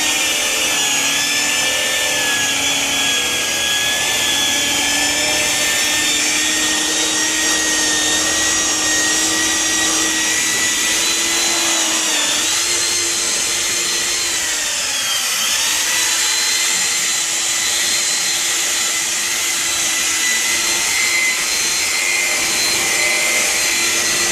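Power polisher buffing a car headlight, a loud, continuous whirring drone close up with slight pitch shifts throughout and no pauses.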